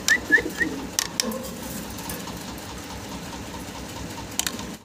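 Pigeons coo softly at a breeding farm in Bangladesh where pairs with chicks are kept, a few faint calls and light clicks and flutters over a steady mechanical hum.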